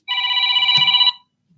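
A telephone rings once for an incoming call: a single bright electronic ring about a second long, close and clear, followed by silence.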